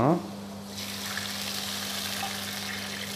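Milk hits garlic frying in a pan, a short splash followed by a steady soft sizzle and bubbling beneath a low constant hum.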